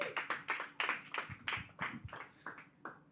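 A small group claps for a presenter at a gathering, quick uneven hand claps close by for a few seconds, no voices over them.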